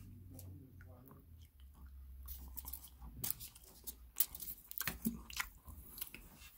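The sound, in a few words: chewing Swizzels Drumstick chocolate bar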